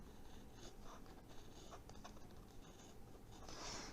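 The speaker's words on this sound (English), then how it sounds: "take your pencil, and I want you to put a nice line on there" A pencil drawing a line around a rocket body tube gives soft, faint scratchy strokes in short bursts over quiet room noise, with a louder scrape at the end.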